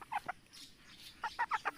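A chicken with a cold, sick during the rainy season, gives short, soft clucks, a couple at first, then a quicker run of four or five, faint and close.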